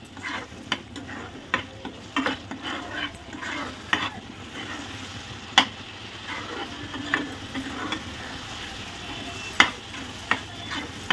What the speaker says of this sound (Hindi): दो मिनट के लिए इसे इसी तरीके से मिक्स कीजिए